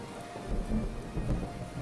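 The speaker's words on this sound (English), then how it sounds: "The darkening skies were interrupted by a clap of thunder in the distance" Steady rain patters with low rumbling thunder in the Asagao Academy video game, a short, quiet stretch of constant storm noise with soft swells.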